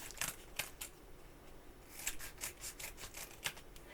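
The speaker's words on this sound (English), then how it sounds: "I am just going to take my scissors and cut across" Scissors snipping across a pop dot adhesive sheet to cut strips, a series of crisp close cuts in two bursts with a short pause between, fairly quiet.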